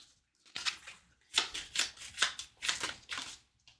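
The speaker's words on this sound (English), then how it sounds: "shuffle those a couple times" Playing cards riffle-shuffled during a Pathfinder Adventure Card Game session, in several quick crisp bursts of snapping, fluttering cards with short pauses between them, close up and with no talking.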